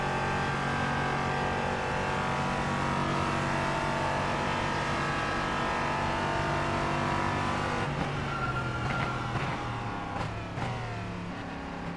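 Sports car racing at the Fuji circuit in the iRacing sim, engine droning steadily at high revs, then downshifting and braking into a corner around eight seconds with a brief tire squeal before pulling away again; continuous and close.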